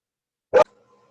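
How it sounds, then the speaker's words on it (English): A single sharp dog bark close by, followed by a faint low hum. "excuse the dog there"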